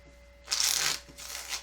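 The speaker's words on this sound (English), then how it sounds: "I do like to shuffle on camera so that you can see that I'm not rigging the cards." Tarot cards are shuffled in two brisk riffling bursts, the first longer and louder, close and clear with no talking over them.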